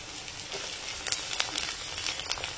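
Chopped onions with garlic and green chillies sizzling in a pan of oil, a steady soft crackle with brief brighter spatters throughout, alone without talk.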